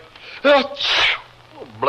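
A single sharp sneeze bursts out near the middle, with a voice talking before and after it in an old radio drama.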